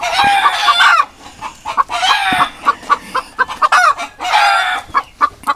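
Chickens cluck close by in loud, repeated bursts, with sharp squawks and crow-like calls breaking through between quieter clucks.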